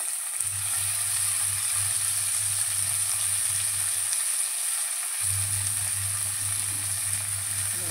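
Curry leaves, green chillies and spinach frying in oil give off a steady, bright sizzle, with a low hum running underneath that cuts out briefly partway through; no one speaks.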